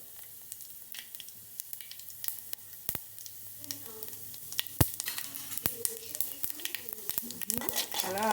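Mustard seeds and cumin sizzling in hot oil, an uneven crackle with sharp pops and spits, growing busier and louder toward the end, with a voice talking faintly in the background.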